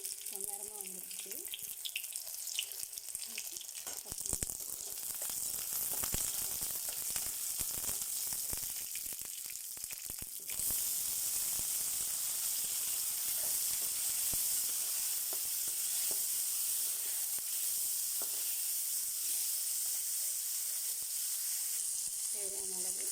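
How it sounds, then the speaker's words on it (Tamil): Onions sautéing in a pan for Tamil home cooking, giving a steady, loud hiss and sizzle that runs close and continuous throughout, with faint clinks and stirring beneath. "வெங்காயம் ஒரு 2 நிமிஷம் வதங்கட்டும்"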